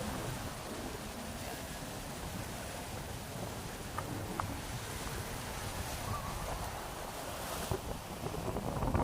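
Strong sea waves and gusting wind on the beach at Barangay Tambungon, where fishing boats sit ashore, make a continuous, loud, broadband roar and rush that swells slightly toward the end.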